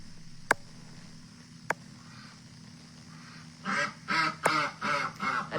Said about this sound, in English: A duck has taken over MailChat.